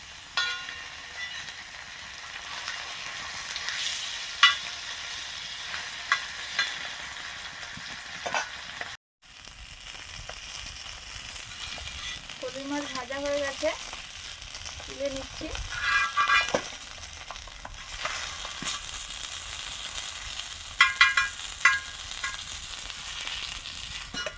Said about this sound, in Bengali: সুন্দর ভাজা হয়ে যাচ্ছে গোটা গোটা সোজা সোজা আছে একদম